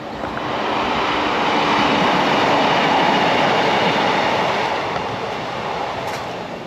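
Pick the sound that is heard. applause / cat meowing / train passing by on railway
train passing by on railway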